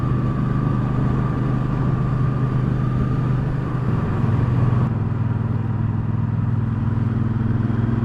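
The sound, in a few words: 2019 Triumph Speedmaster motorcycle engine while riding in sixth gear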